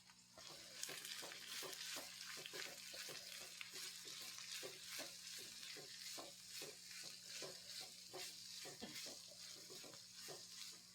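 Chopped onions (about three) frying and being stirred in a pan, a steady sizzle broken by repeated scraping stirs throughout, close and continuous.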